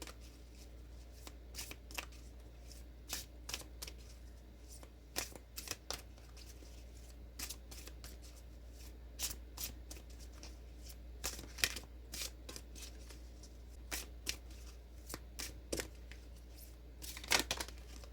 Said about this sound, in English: to pull a card from the Dragon Rider's Oracle